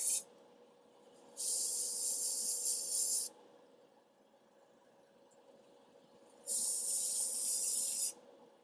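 An airbrush sprays base coat paint onto miniatures in two steady, hissing bursts of about two seconds each, separated by quiet pauses with a faint low hum underneath.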